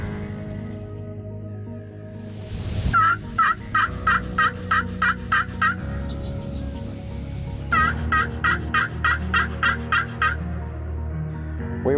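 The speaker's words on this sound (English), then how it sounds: "We weren't there for an hour and struck a call, boom, 2 gobblers." Wild turkey gobblers in Missouri answer a call at midday, loud rapid gobbles in two bursts close by, each rattling series repeating several times over steady outdoor background with no talking.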